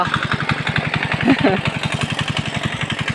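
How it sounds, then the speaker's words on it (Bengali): An irrigation water pump engine in a paddy field chugs in a steady, fast, loud rhythm while someone tries to start it, with voices talking over it. "দেখো এই জায়গাতে এখন দু নম্বর মেশিংয়ের স্টার্ট চলছে কি হচ্ছে স্টার্ট ধরছে না"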